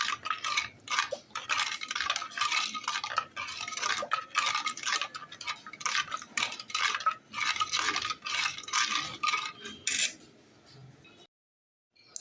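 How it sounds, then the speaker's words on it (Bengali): Spoon stirring sugar into bael fruit sherbet, fast rhythmic metallic clinks and scrapes against the glass repeating steadily and close for about ten seconds, then stopping abruptly. "আমি এবার চিনি মেশাচ্ছি"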